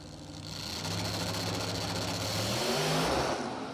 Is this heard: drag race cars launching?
yes